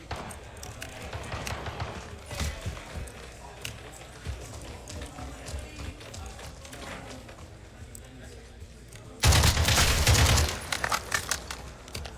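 Gunfire crackles in a multiplayer match of Modern Warfare, with rapid, scattered shots through the clip and a loud burst of automatic fire near the end, under near-constant talk.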